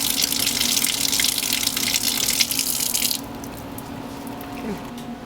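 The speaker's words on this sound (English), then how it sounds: "Run the cryo vial under warm water" Warm tap water runs into a sink over a cryo vial held under the stream, a steady bright splashing hiss that cuts off partway, leaving quiet drips and low room hum.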